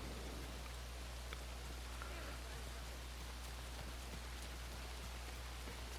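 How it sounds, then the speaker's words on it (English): Rain falls steadily in the video game Alan Wake 2, a constant even hiss with faint patter and a low hum underneath, quiet and unbroken for the whole stretch. "It's raining."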